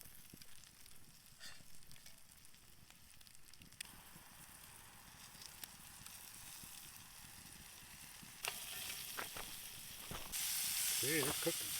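Wild mushrooms fry in a pan with a faint, steady sizzle and hiss, quiet at first and brightening toward the end, with a few clicks of handling along the way.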